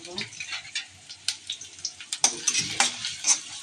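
Potatoes fry and get stirred in a pan while breakfast is made at home: a steady close sizzle with scraping utensil strokes against the pan, and some faint voices in the background.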